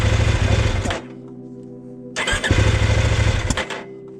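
A KOVE 800X Pro adventure motorcycle cranks and fires loudly, dies after about a second, then cranks and catches again for another short, close run with no talk.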